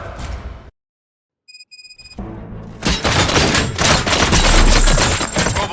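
Rapid bursts of gunfire erupt in RoboCop: Rogue City, a loud sustained barrage with heavy booms and thuds following a brief silence and a few electronic beeps.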